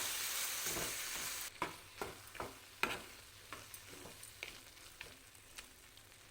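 Amla paste frying in tempering oil in a pan gives a soft sizzle, with a spoon stirring and scraping in several distinct strokes, faint and close.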